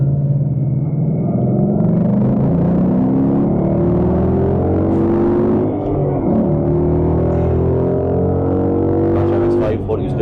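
Ford Mustang GT engine drones steadily and loudly from inside the cabin while driving on the Nürburgring Nordschleife, the pitch climbing through the gears with a dip midway.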